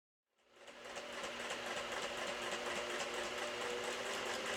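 A sewing machine starts up and runs steadily, stitching scrappy pieces of quilt batting together, a close, even mechanical whir with fast rhythmic ticking and no talk.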